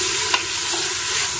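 Onion, tomato and carrot fry in a pan with a loud, dense sizzle and a quick stir, brief and continuous with no talk.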